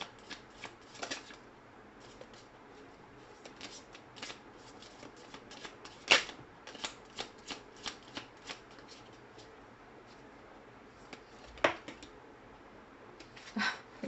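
A deck of tarot cards being shuffled by hand nearby, with repeated soft riffles and sharp card snaps scattered irregularly over a quiet background, and no voices.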